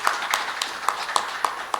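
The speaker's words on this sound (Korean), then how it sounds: "다 같이 우리 박수 한번 칩시다." An audience claps in a hall, the individual claps landing in a loose, fairly even rhythm at moderate distance and modest loudness.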